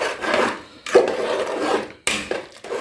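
A spoon scrapes and rasps around a pot of Jamaican-style stew peas with pig's tail, in steady strokes broken by two short pauses, loud and close with nobody talking.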